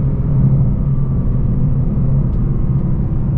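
Inside a Lexus LC500, a steady, loud engine drone rumbles under load, holding a constant pitch while the transmission fails to upshift.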